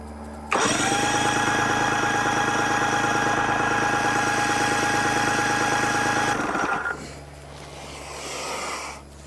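A Mercury 60 hp outboard engine roars loud and steady at wide open throttle for about six seconds, then cuts back abruptly to a lower, rougher running sound.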